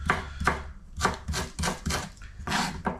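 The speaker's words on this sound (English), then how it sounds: "So I'm just gonna chop this ginger up." A knife roughly chopping fresh ginger on a board, about seven distinct cuts in an uneven rhythm, close and fairly loud with no voices.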